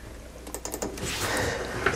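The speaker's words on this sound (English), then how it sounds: "while I'm typing." Fingers type on a computer keyboard at an ergonomic desk setup, a close burst of irregular clacking keystrokes with no talking.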